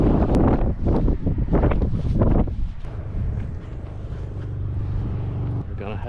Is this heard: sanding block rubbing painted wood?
no